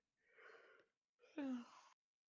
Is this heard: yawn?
yes